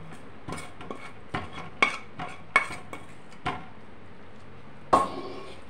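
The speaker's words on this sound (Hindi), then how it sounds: "और हमारी घी लगी हुई प्लेट में इसको ट्रांसफर करेंगे जमाने के लिए।" A metal spoon clinks and scrapes against a pan and plate while a sweet mixture with dry fruits is transferred onto a ghee-greased plate, several close, sharp clatters at uneven intervals with a louder scrape near the end.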